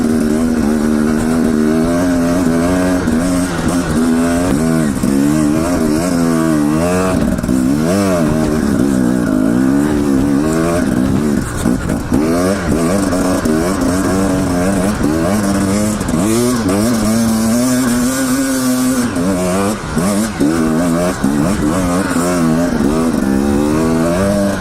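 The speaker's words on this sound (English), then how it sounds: "this bike is awesome. Just going straight up these hills and it's all snowy." A Husqvarna dirt bike engine climbs snowy hills, loud and close throughout, its pitch constantly rising and falling as the throttle opens and eases with no pause.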